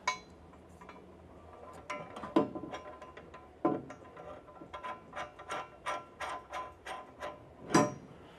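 Ratcheting wrench clicks while nuts are tightened down on a Toyota Supra under rebuild, a close run of sharp rhythmic clicks in bursts with a few louder metallic clanks between.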